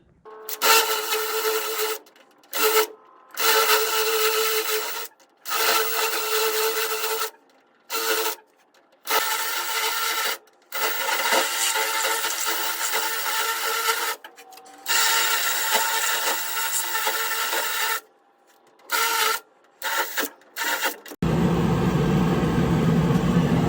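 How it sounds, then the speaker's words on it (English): Blair spot weld cutter drilling out spot welds on the body of a Land Cruiser BJ60/FJ60, a loud, close grinding rasp in repeated bursts separated by short pauses, ending in a different broadband noise. "Blair spot weld cutter kit. Seems to be working fairly well."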